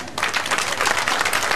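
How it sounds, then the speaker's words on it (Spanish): A crowd applauds performers, shepherd and indigenous dance groups, at a community event in Santa Ana, Bolivia; dense, steady clapping close by for a short burst. "lamamos a su capitán, el señor Andrés Busto, un aplauso para ellos,"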